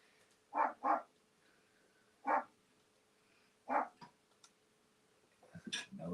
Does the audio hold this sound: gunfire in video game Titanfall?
no